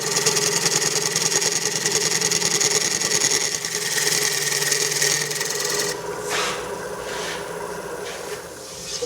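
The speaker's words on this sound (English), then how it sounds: "I also go in with a smaller gouge now and get this wall to match the outside one." A wood lathe spins while a small gouge cuts a turned wooden tray, giving a steady rasping scrape over a motor hum that eases off partway through.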